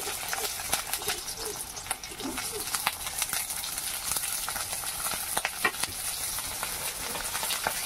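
Green chillies sizzle and crackle steadily in hot oil in a pan, a dense, close frying hiss with occasional sharper pops and faint stirring, cooked for a Bengali sweet pumpkin curry.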